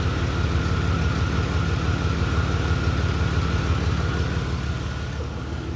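An OBS Ford truck engine idling with an exhaust leak, a steady low rumble with a rapid, even puffing pulse that holds close and loud throughout.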